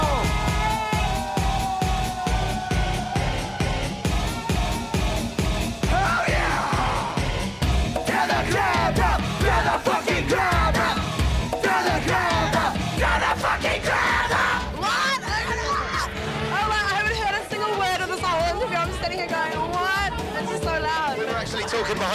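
A loud concert crowd at a live show yells, whoops and cheers continuously over pounding amplified music, dense and close throughout, with shouting voices in the mix.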